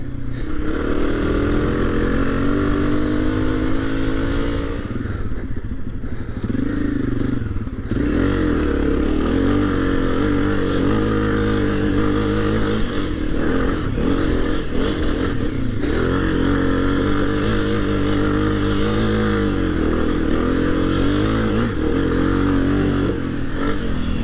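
A 2022 Honda CRF250F motorcycle engine runs loud and close, rising and falling in pitch as it revs and accelerates, with mechanical clatter and a steady drone throughout.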